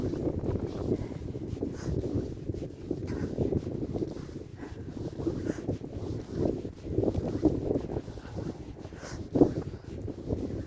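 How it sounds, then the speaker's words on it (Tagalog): Strong wind buffets the microphone outdoors in a steady, rough, low roar that surges and eases throughout, with no one speaking. "Grabe yung hangin"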